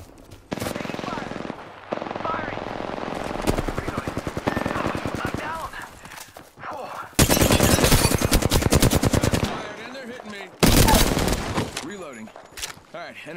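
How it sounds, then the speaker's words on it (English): Bursts of rapid automatic gunfire in the battle-royale shooter Apex Legends, with close, loud volleys separated by brief pauses and a few single shots, while a voice talks between the bursts. "Getting shot at."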